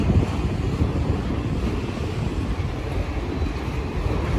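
A very long freight train of empty auto rack cars rolls past on an Indiana & Ohio Railway line, a loud continuous low rumble and rattle with wind buffeting the microphone.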